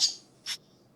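A synthesized bird call triggered in Unreal Engine Metasounds: two short, bright chirps about half a second apart, the first a little longer, each standing alone over quiet background hiss.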